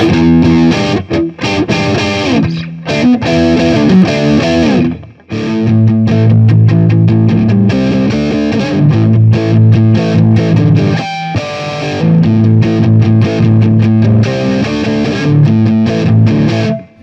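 A loud distorted Epiphone Les Paul Special Double Cut electric guitar chugs through a classic rock riff, with heavy palm-muted chords and brief pauses between phrases.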